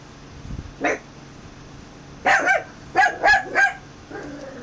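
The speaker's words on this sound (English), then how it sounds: "Sorry about my dog." A dog barks indoors, close by, first with a single short yip and then in a burst of four or five loud barks, with a faint whine trailing at the end.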